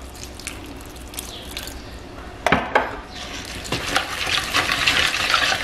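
Carbonara pasta being stirred with a splash of pasta cooking water in a pan, giving close wet scraping and clinking of utensil against cookware in irregular bursts that grow busier toward the end, with no talking.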